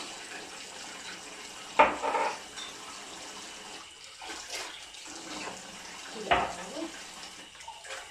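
Tap water runs while cups are washed at a home sink, a soft continuous wash with two louder splashes or clatters as items are handled under the stream.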